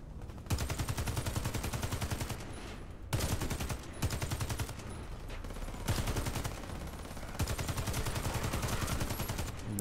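Rapid bursts of loud gunfire in the shooter game Warface, machine-gun rattles broken by brief pauses, continuing in dense volleys throughout.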